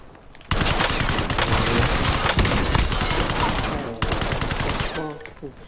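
Dense automatic gunfire rattles in rapid bursts during a Call of Duty Warzone battle royale match, loud and sustained for several seconds with a short break before a final volley.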